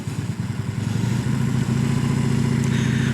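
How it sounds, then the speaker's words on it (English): A motorcycle accelerates in first gear, weaving between training cones on a practice lot, its engine note loud and close with a steady pulsing drone that climbs in pitch as it gains speed. "we get the motorcycle up to speed in first gear, and we're just going to weave smoothly in and out of the cones"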